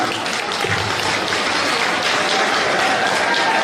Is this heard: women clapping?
yes